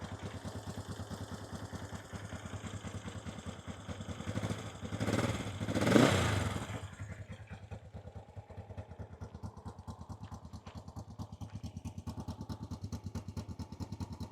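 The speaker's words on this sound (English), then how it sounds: "Engine runs very smooth" A Honda Black Bomber motorcycle engine idles steadily and smoothly nearby, with a brief louder swell of clatter or revving partway through before it settles back into an even, continuous run.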